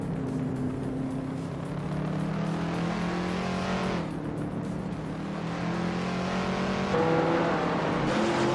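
Vintage street race cars drone loudly around the tight corners of Imola in a racing video game, engine tones rising and falling steadily with a shift or two, no voices over the constant roar.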